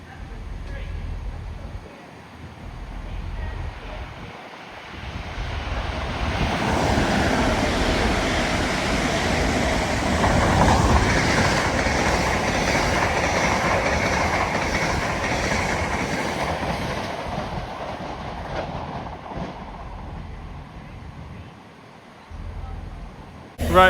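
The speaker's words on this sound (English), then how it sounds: "Enjoy these next trains that come flying through." A train rushes through a London station, a loud rumbling roar with rhythmic clatter building and fading over about fifteen seconds amid ambient platform noise.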